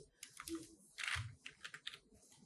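Quick, soft keystrokes tap on a computer keyboard in a quiet room as a web address is typed into a browser, an irregular run of light clicks.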